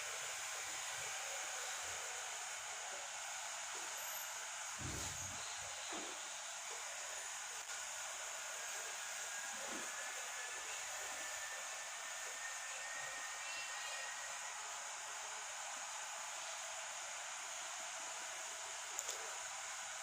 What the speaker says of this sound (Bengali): বাদামি রং করে ভেজে নিলাম।